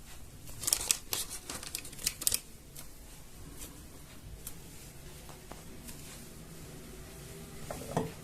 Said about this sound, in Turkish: pastırmalarımızı elimizle parçalayarak şöyle koyuyoruz